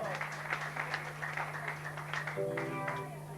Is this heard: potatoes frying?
no